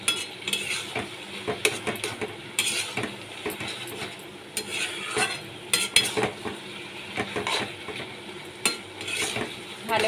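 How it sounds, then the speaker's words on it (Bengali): Hilsa fish head curry with ash gourd and garam masala being stirred in a pan, repeated sharp scrapes and clacks of a spatula against metal over a continuous frying sizzle. "গরম মশলা দিয়েও আমি এবার ভালো করে নেড়ে নিচ্ছি।"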